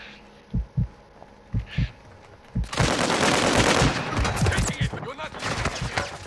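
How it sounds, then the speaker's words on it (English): Video game gunfire in a battle royale match: a few isolated thumping shots, then a dense, loud burst of sustained automatic fire with rattling impacts. "They're shooting at me."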